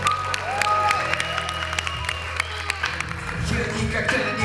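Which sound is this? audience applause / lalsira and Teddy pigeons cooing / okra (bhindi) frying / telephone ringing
audience applause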